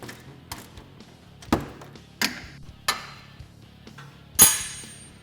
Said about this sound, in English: Then we're going to remove our upper shock bolt.